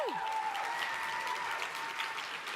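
An audience at a conference closing plenary claps steadily, with a few whoops and cheers rising from the crowd.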